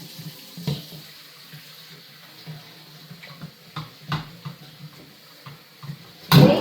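Tap water running into a sink while making homemade body butter, a soft steady trickle with intermittent clinks and knocks of a bowl, ending in a louder splash.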